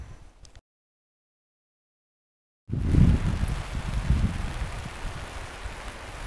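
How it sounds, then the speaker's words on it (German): Heavy rain pours down near Exit Glacier in Alaska, a steady broadband wash of downpour with gusting wind, loud and close, following a stretch of silence at the start. "Und ja, es gießt in Strömen."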